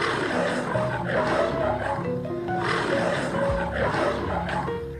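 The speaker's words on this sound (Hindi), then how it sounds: "तभी उसे शेर की आवाज सुनाई दी" A lion roars in a Hindi cartoon, a deep, drawn-out growling roar repeating over several seconds against a busy cartoon soundtrack, fairly loud and near.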